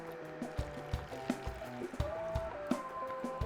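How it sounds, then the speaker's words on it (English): Thick turbinado sugar syrup poured from a pot into a storage container, heard as close, soft, sticky glugs and drips with small clinks against the container. "Pour that syrup up into our storage container."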